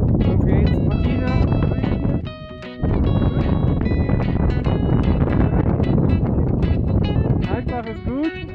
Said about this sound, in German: Yeah, this is very hard, the wind, yeah? The wind is cold here.